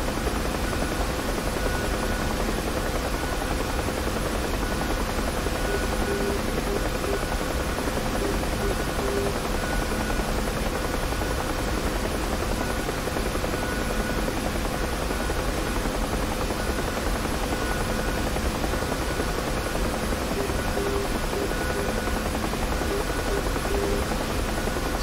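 Simulated Bell UH-1H Huey helicopter in the DCS flight simulator, a steady loud rotor and turbine drone climbing for an autorotation practice, continuous throughout with no talking.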